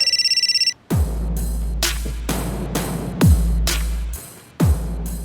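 A phone ringtone trills briefly at the start, then repeated loud thuds and bangs follow in an uneven rhythm.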